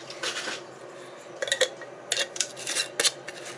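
A jar lid is handled close up on a kitchen counter while making an arthritis salve: a few light metallic clinks and scrapes come in short irregular bursts, fairly quiet with no talk.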